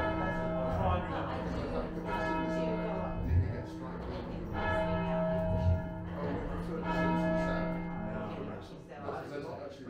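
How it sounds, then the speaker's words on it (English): A church bell rings in a steady, repeated rhythm of rich, sustained strikes whose tones overlap, heard at moderate distance while people talk throughout. "Beautiful tone that bell's got."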